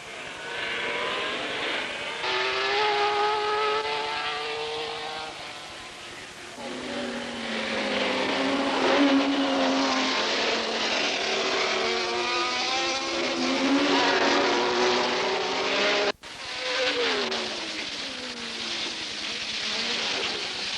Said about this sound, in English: And when the flag falls, into the lead goes Jackie Ickx in the Ferrari 312 from pole position.